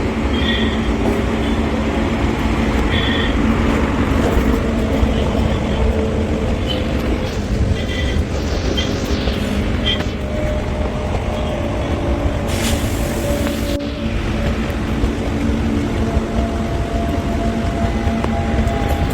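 The Kannur Intercity Express, an Ernakulam-to-Kannur train, rumbles steadily at a railway platform, with loud continuous wheel and carriage noise and a brief hiss of air partway through.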